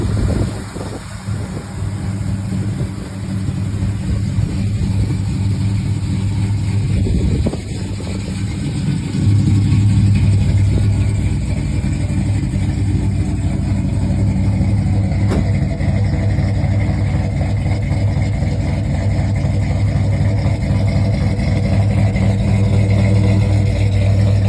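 A 1977 Pontiac Grand Prix two-door's engine runs steadily with a deep, constant hum, swelling slightly partway through as it revs, heard close with no talking.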